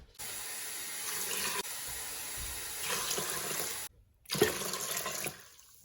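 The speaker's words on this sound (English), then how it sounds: "I'm going to add 6 cups of water." Water streams steadily into a NuWave pressure cooker over dry beans, a continuous splashing pour that breaks off briefly and then resumes with a louder gush before tapering away.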